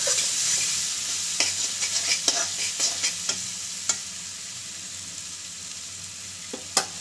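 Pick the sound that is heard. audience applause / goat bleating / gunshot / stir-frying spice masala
stir-frying spice masala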